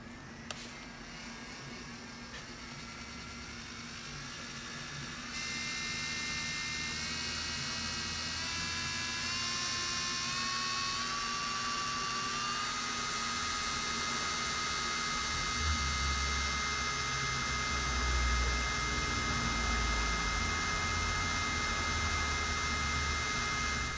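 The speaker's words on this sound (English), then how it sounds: "let's go ahead and see how loud the handpiece is" A Burano electric nail drill handpiece runs continuously with a steady high whine that climbs in pitch as its speed increases, close and moderately loud, with no talking.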